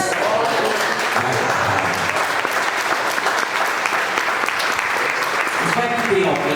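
A church congregation bursts into sustained, loud applause during a sermon, the clapping dense and even from start to finish, with faint voices and a brief tonal sound near the end.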